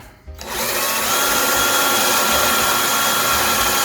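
After a brief quiet moment, a power drill spins up and runs steadily at full speed drilling a hole for a closet fitting, loud and close, without stopping.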